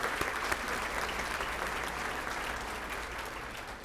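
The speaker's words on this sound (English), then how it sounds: "So I'm gonna clap for that." Audience applause at a school district awards event, a dense, steady roar of many hands clapping, loud and continuous from start to finish.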